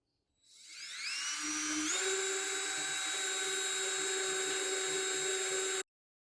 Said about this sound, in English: now that I've finished drilling the pilot holes